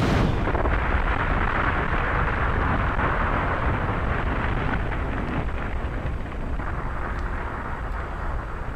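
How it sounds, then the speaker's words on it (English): A long, roaring explosion in the video game Armored Core 4 Answer rumbles continuously, deep and loud, slowly fading in intensity over several seconds. "Come on. It's a big explosion."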